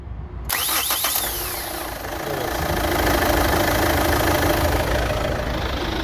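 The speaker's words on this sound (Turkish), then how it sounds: "Şimdi marş yapacağız." A Chevrolet Captiva 4x4 engine, just fitted with a new starter solenoid, cranks briefly with a few rapid whirring pulses, then catches and settles into a steady, loud idle close to the microphone.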